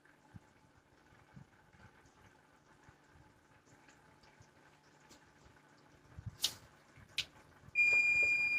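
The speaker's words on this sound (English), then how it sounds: "There went our timer." A kitchen timer alarm in a home cooking setting goes off near the end as a loud, steady electronic tone, after a stretch of quiet kitchen clatter and a couple of brief knocks.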